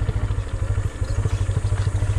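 A motorcycle engine labors up a slope of soft, dry dirt, its throbbing exhaust pulsing loud and close with a rough, uneven rhythm and light clatter.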